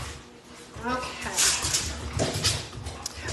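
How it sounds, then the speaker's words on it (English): A dog whimpers and whines in short, rising cries right after being let indoors, close by, mixed with shuffling and a person talking over it. "let the dog in"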